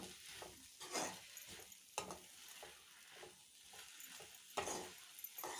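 Food is stirred in a hot pan, with a spatula scraping and pushing through a steady soft sizzle, strokes recurring roughly every second, quiet and close.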